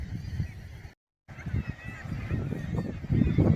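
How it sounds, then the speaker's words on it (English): Nesting seabirds honking by the lighthouse at Whitburn near South Shields, a dense, continuous chorus of harsh calls against wind that cuts out briefly, then swells louder toward the end. "Look at all these nesting birds."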